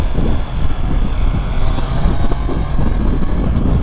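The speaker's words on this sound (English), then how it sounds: "I'm just so impressed with how silky smooth the 660 engines are" A 2025 Triumph Trident 660 motorcycle on a ride, its engine a loud, steady drone mixed with heavy wind buffeting across the microphone, continuous and close throughout.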